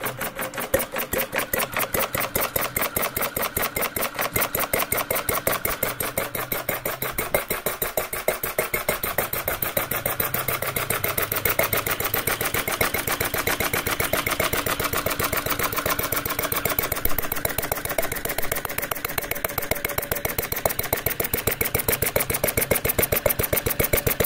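A large RETROL mill engine starts and runs steadily, giving a loud, continuous rhythmic chugging with rapid regular beats throughout, close by and with no talk.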